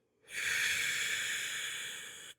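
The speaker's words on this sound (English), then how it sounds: "Breathe in, breathe out." A single long, steady breath, loud and close, drawn out for about two seconds during a slow mobility exercise for back stiffness. It sounds as a smooth, airy hiss with no talking over it.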